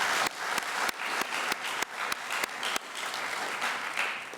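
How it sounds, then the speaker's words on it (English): An audience applauds the Rwandan Parliament at the close of a plenary session of African parliamentarians, sustained dense clapping with sharp individual claps standing out, filling the room without any voices over it. "Je vous demande donc d'applaudir le Parlement rwandais"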